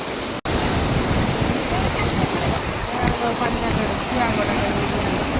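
Flowing water rushes in a steady, broad hiss that fills the whole stretch without pause, loud and close, apart from a single sharp dropout near the start.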